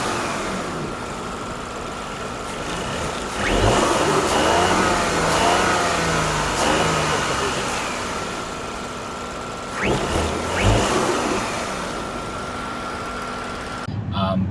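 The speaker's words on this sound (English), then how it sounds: "when the car's parked and the bonnet is open and you rev it, there's like a whistly sound" An Audi S6 mild hybrid engine idles steadily while parked with the bonnet open, then revs up twice with a rising whistle-like whine, close and fairly loud, with no talking.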